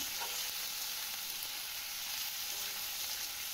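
Spices frying in a pan with green chillies while cooking a Bengali banana-flower mochar ghonto, a constant bright hiss of sizzling oil with faint stirring, close and continuous without talk.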